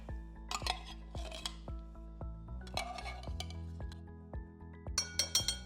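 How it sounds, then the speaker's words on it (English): A metal spoon clinks and scrapes against a metal can while scooping out the last of a chicken pot pie filling, giving a string of sharp, close taps and scrapes in uneven clusters, with no talking. "You can grab an additional spoon if you'd like and get everything out of the can"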